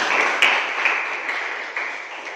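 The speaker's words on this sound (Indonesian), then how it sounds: "tepuk tangan untuk kita semua" Classroom applause after a student debate, a steady dense wash of many hands clapping together for a couple of seconds, fairly loud and close, with no voices standing out.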